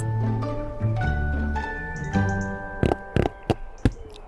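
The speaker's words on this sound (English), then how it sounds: "That is the sound of cardboard." A cardboard box is handled up close, giving a few short, sharp scuffs and crinkles after a stretch of quieter tonal sound.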